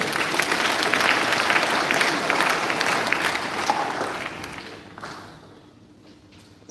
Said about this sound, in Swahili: Tupige makofi.